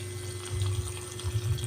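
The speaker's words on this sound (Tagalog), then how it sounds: "Ano man yan, ang bagal ng tubig." Water trickles slowly from a tap in a steady, faint stream, with a low continuous hum underneath.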